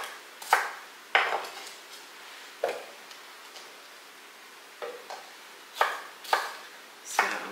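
A knife chops peppers on a board for pepper relish, about a dozen sharp, close cuts in uneven clusters separated by short quiet pauses.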